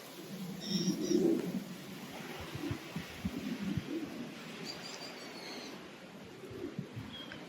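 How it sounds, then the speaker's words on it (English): A pet parrot calls repeatedly in the background of a snowy winter garden, its squawks and coos coming through as moderate, somewhat distant bursts over steady outdoor ambience. "You can hear my parrot in the background."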